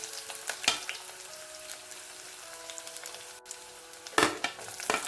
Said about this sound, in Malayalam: നമുക്ക് ആ വെളുത്തുള്ളി അങ്ങോട്ട് ഇട്ട് കൊടുക്കാം അതുപോലെ ഇഞ്ചി കൂടി ചേർക്കാം